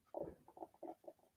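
A human stomach rumbles in a short series of soft, low gurgles, close and faint in a quiet room.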